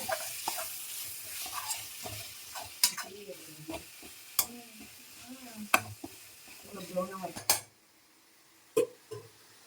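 Tomatoes sautéing in a pan for prawn gravy, with a soft sizzle under repeated spoon stirs and sharp scraping clinks against the pan, then a near-quiet stretch with one last clink.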